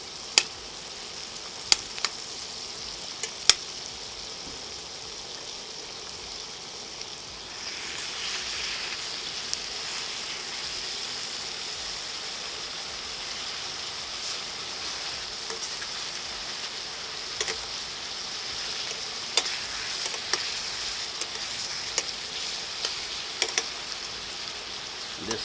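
Grass-fed ribeye steak frying in a pan of butter with garlic and thyme, giving a steady close sizzle with scattered sharp pops and crackles, no voices.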